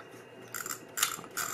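A Holga 135 film camera is wound by hand, giving three short ratcheting clicks in quick succession, close and fairly quiet with brief pauses between.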